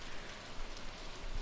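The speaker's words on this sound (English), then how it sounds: "Orosz, what are you doing out here in the rain?" Steady rain pours down in the farming game Stardew Valley, a dense, even hiss filling the whole clip with soft patters and no voices over it.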